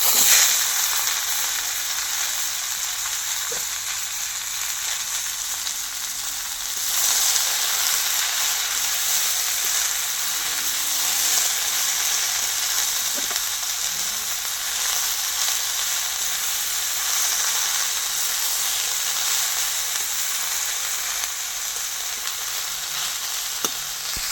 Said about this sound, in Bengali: বড়িটা ভেজে নিতে হবে এবার কেটে রাখা সবজিটা দিয়ে দেবো